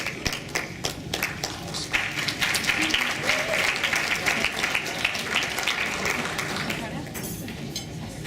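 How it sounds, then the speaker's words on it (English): An audience at a dental society meeting applauds a speaker, with sharp individual claps at first swelling into a full, sustained round that thins out toward the end, with some voices mixed in. "So let's give her a round of applause also"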